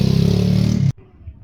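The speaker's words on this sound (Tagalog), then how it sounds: "May dumaang motor mga idol." A motorcycle goes by loud and close, its engine buzz and revving filling the first second before cutting off sharply and leaving a quiet background.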